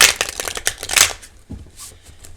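A deck of oversized tarot cards is shuffled close by, giving a quick run of crisp riffling and slapping bursts that then thin out into softer card sounds.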